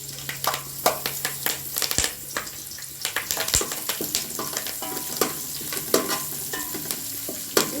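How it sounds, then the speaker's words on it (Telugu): Curry leaves frying in hot oil, a busy crackling sizzle with frequent sharp pops and the clatter of stirring against the pan, close and steady throughout without talk. "తర్వాత కరివేపాకు కూడా ఆయిల్లో ఫస్టే"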